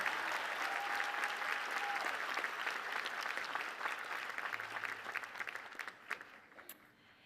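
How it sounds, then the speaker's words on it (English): Applause at a college commencement ceremony: a large audience claps in a dense, even roar that gradually thins out into scattered individual claps before fading. "Another round of applause."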